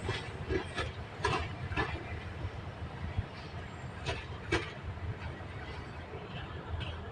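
A train rolls through a station in Thailand with a steady low rumble and repeated wheel clatter.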